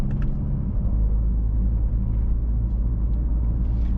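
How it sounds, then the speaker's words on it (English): A 2024 Mercedes-AMG GLC 63 S downshifting in race mode on a night drive, a deep continuous engine rumble from inside the cabin with a couple of brief crackling blips near the start, no voices. "I like the noises which the car makes when it's shifting in race mode."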